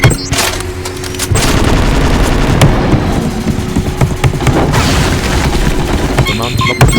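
Heavy video-game gunfire and explosions pound almost continuously, with rapid bursts and deep booms close and loud, and a voice is faintly mixed in.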